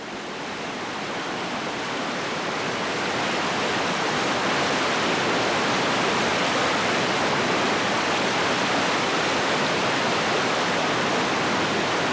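Long, tricky river rapids below a waterfall on a Scandinavian canoe route roar as a steady, dense rush of water that swells slightly and then holds loud and unbroken throughout.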